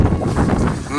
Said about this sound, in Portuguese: O vento, escuta o vento.